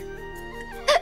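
One abrupt, close hiccup from a woman in a Hindi TV drama serial, near the end and standing out from a quiet, humming room tone.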